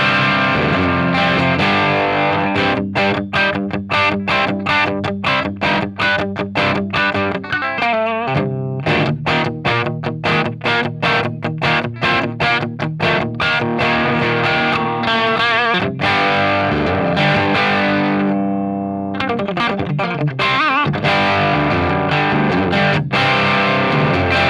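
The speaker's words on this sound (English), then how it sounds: "There's really something cool about this green channel on this Marshall." Overdriven electric guitar roars through the green channel of a Marshall tube amp, crunchy distorted chords and riffs played continuously and loud, with brief sustained notes between strummed passages.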